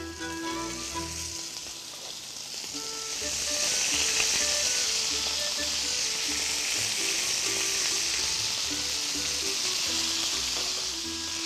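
Breast meat laid across the grain into a hot pan crackles and sizzles loudly, the frying swelling stronger after a few seconds and holding steady, with no voices.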